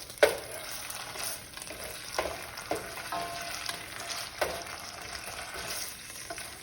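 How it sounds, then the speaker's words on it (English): A soft, continuous sizzle of Thai red curry frying in a pan, with occasional scraping knocks of a utensil stirring it; no talking. "you're just frying the curry a little bit."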